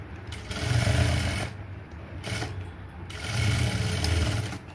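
A sewing machine runs in several short bursts while stitching a blouse, its steady low mechanical whir rising and falling as the seam is sewn, close and fairly loud with no talking.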